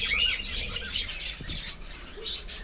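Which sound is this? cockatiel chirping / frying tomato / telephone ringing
cockatiel chirping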